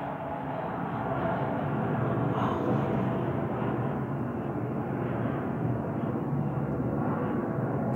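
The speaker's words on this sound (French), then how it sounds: "C'est des avions." Military training airplanes pass overhead as a loud, broad, continuous roar of engines that swells slightly and then holds steady throughout, with no talk over it.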